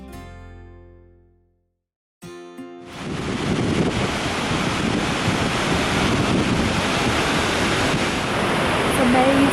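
A waterfall somewhere remote in Iceland gives off a steady, loud broadband roar, heavy with wind buffeting the microphone, after a few quiet seconds at the start.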